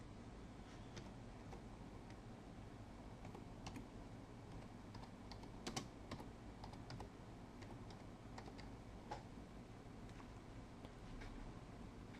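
Soft, steady typing on a computer keyboard, with faint irregular key clicks over a low background hum and no talking.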